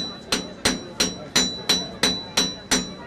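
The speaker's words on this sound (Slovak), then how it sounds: "Aj ten zvuk z kovačskej výhne a aj obraz je taký ako" Blacksmiths take turns hammering hot metal at a forge: loud, close, ringing blows in a steady rhythm, about three strikes per second, with no talking.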